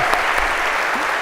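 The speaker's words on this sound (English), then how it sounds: "a big round of applause, if we could, for Han." A lecture-hall audience at a CS50 class breaks into full, continuous applause, loud and even throughout the short stretch.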